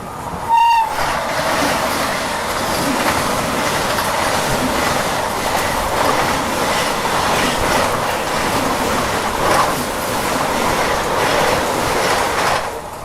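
Humsafar Express train running at high speed, a steady loud rumble and rattle of wheels and carriages throughout, with a brief horn blast near the start.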